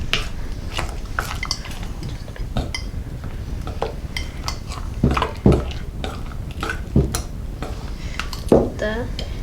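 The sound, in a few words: mixing homemade slime in a bowl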